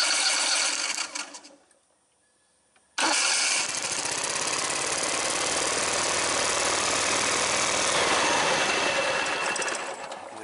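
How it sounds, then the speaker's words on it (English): A Kohler engine is cranked over with a dense, rattling mechanical whir that cuts out briefly and then resumes, loud and steady, near the microphone with no talking. "And I'm going to spin the motor over."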